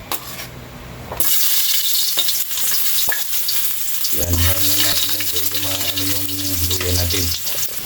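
Ginger hitting hot cooking oil in a pan bursts into a loud, close sizzle and crackle that keeps going, with a few soft utensil knocks and a brief stir partway through.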